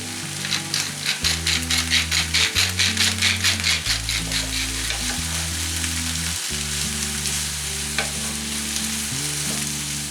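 Sliced mushrooms fry in a pan with a steady sizzle while a spoon stirs them in quick, rhythmic scraping strokes, close and clear over soft background music, with no talking.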